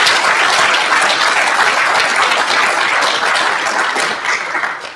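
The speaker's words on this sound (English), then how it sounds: "giving our candidates a really big round of applause" Audience at a Tauranga mayoral candidates debate giving a big round of applause, loud dense clapping sustained for about five seconds and tapering slightly at the end.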